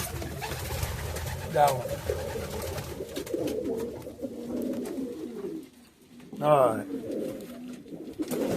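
Spanish Pouter pigeons coo in a bird loft, deep throaty rolling calls rising twice close by, with someone talking briefly between them.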